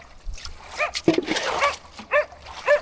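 A dog gives several short, close barks and yelps in uneven bursts, with a brief whimpering quality between them, outdoors near a river fishing spot.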